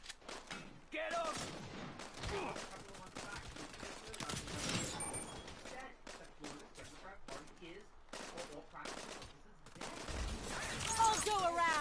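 Gunfire in the video game Saints Row on PS4, with bursts of shots and rapid fusillades over a busy game mix, moderately quiet overall, while voices shout over the action.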